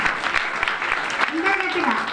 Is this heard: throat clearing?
no